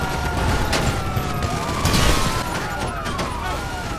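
Gunfire in the video game GTA crackles in scattered bursts beneath a wailing police siren and dense game noise, all at a steady loud level.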